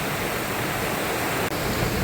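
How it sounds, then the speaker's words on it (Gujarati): Heavy monsoon rain pours beside the flooded Damarwala river, a dense, loud, unbroken roar of water with no voices. "વરસાદ પણ એટલો બધો પુષ્કળ ચાલુ છે"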